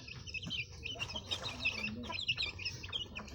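Young pet chicks peep and cluck steadily and close while being fed termites, their chirps dense and overlapping against low background noise, with faint speech underneath.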